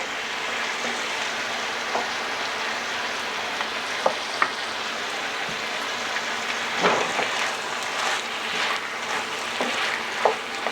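Garlic sizzles in a pan while cooking down for braised beef chuck, a steady crackling fry with a few faint stirring clicks and pops over the top.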